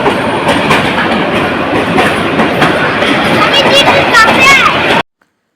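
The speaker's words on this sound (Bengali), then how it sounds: "তো পাশেই আবার ট্রেন এসে পড়েছে।" A train rolls past close by a rooftop garden barbecue, a loud continuous rumble with rhythmic clatter and faint wheel squeal, under chatter from a group of people, ending abruptly.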